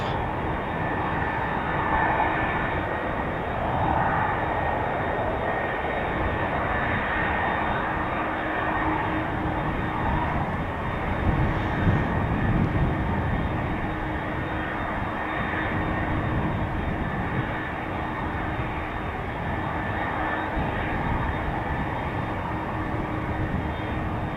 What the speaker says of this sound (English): Using a lot of the runway for takeoff.